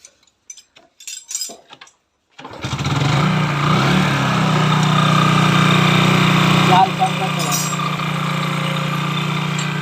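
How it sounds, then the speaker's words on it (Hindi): A rebuilt Hero Super Splendor motorcycle engine fires up after a few metallic clinks and settles into a steady, close, even idle that runs loud and unbroken to the end. "अब इंजन बनने के बाद आप आवाज़ देख सकते हैं किस तरीके से"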